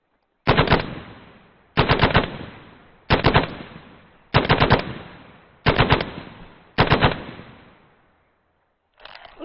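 Sustained machine gun fire in a military squad-training video game, six distinct bursts of rapid loud shots spaced about a second apart, each trailing off, with the start of another burst at the end.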